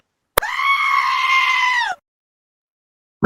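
A single goat lets out one loud, sustained scream-like bleat of about a second and a half, clear and close, with abrupt sharp clicks marking its start and a cut-off burst just after.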